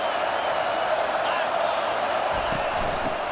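A stadium crowd roars in a steady, dense wash of cheering throughout an EA Sports College Football 25 game, with no pauses or swells.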